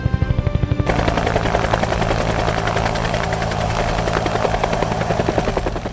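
A police helicopter hovers close overhead, its loud rotor thumping in a steady, rapid rhythm with a constant engine whine that continues without a break.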